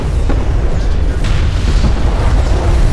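Airstrike explosions in the strategy game Homeworld: Deserts of Kharak, a steady loud wash of deep booming blasts that overlap and rumble continuously for the whole stretch.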